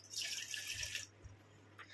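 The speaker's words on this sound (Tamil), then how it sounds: "இதில் வந்து ஒரு டம்ளர் அளவுக்கு நம்ம தண்ணி சேர்த்துக்கலாம்" About a tumbler of water pours into a pot in a bright hissing stream for about a second, then stops, leaving faint drips and a low hum.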